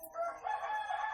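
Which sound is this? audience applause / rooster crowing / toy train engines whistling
rooster crowing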